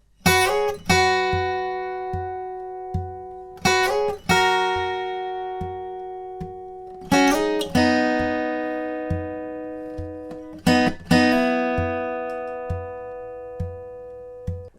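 Acoustic guitar plays the lead line of a song: clusters of quick plucked notes recurring every few seconds, each burst ringing out and decaying, with muted rhythmic chops ticking steadily underneath throughout.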